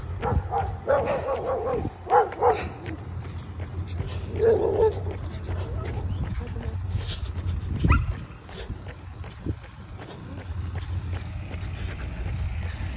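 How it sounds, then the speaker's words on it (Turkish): A few dog barks ring out early on, followed by scattered yaps and movement against a steady outdoor rumble. "Bak hemen biri havladı öteki geliyor"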